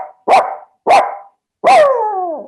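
A man imitates a dog barking: two short, sharp woofs followed by a longer bark that trails off into a drawn-out whine, close and loud in an otherwise quiet room.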